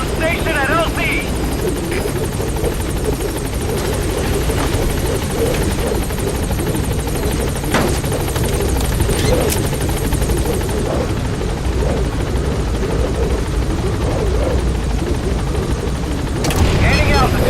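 The Pequod helicopter hovers at the landing zone in Metal Gear Solid V: The Phantom Pain on PS5, a loud, steady rotor and engine roar that fills the whole stretch, with radio-style talk mixed in and a brief surge near the end.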